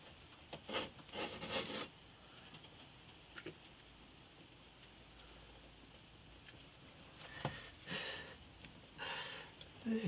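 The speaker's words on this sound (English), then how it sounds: "This razor saw is tricky doing it this way." A handheld razor saw cuts wood for an acoustic guitar's X bracing, making quiet, close rasping strokes in two separate bouts with a hushed pause between them.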